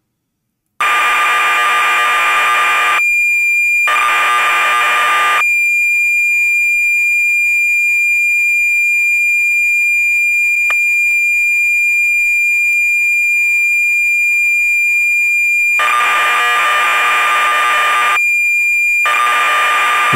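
A retro 1984 computer modem connecting gives loud, harsh bursts of screeching handshake tones, two at the start and two near the end, with a steady high whistle sustained through the quieter middle stretch.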